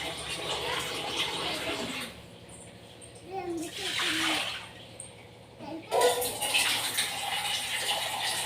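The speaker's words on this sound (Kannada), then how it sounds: "ಸ್ವಲ್ಪ ನೀರು ಹಾಕ್ಕೋಬೇಕು." Water is poured into a pressure cooker holding cut potatoes, giving a few bursts of splashing and filling that come and go over steady background noise.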